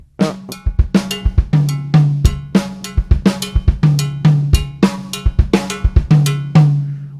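A songo groove played on a drum kit with a tom on the offbeats: a crisp, even pattern of resonant tom and drum hits ringing on a steady low tone, played alone with no talk.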